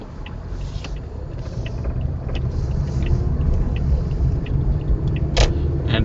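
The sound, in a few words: car approaching at a red light intersection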